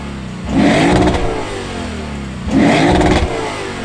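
A 2023 Lexus IS500's naturally aspirated V8 revs hard twice, each surge climbing loudly and dropping back to a steady idle between bursts, close and clear with no talking.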